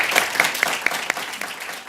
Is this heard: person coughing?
no